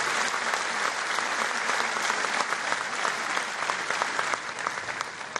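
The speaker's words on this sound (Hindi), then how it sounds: "एक बार पुनः जोरदार तालियों से सभी अतिथियों का" Loud, sustained applause from a large audience welcoming guests at a state-level ceremony in Bhopal, dense and steady throughout with no talking over it.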